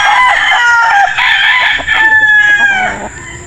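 A DL Gray gamefowl rooster crows loudly and close by, one long drawn-out call that wavers and fades near the end, with faint clucking and background sounds from a backyard breeding yard.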